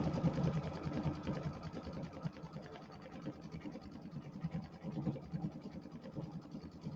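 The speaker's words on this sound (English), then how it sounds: "you can do all the quilting right in the embroidery machine" A computerized embroidery machine stitches quilting through a quilt block, giving a steady, continuous mechanical whir with fast rhythmic needle chatter, fairly quiet and even throughout, with no talking.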